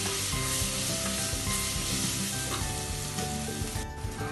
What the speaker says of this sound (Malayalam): ഞാൻ ഇതിനകത്തേക്ക് ഇഞ്ചി വെളുത്തുള്ളി പേസ്റ്റ് ഇട്ട് കൊടുക്കുകയാണ് ഇനി നന്നായിട്ട് ഒന്ന് ഇളക്കി ഇതിന്റെ പച്ചപ്പൊന്ന് മാറ്റാം